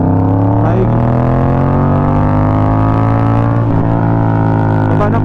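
A Yamaha MT-07 motorcycle engine runs loud and close during a rev-matched downshift, a strong rumbling drone whose pitch shifts and sags, with a brief blip partway through.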